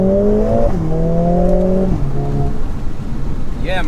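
A 2021 Mercedes A45 AMG S engine pulling hard, its loud tone climbing steadily and dropping at gear changes. Road and cabin noise sit underneath.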